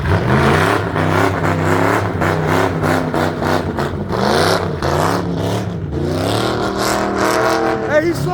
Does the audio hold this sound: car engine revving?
yes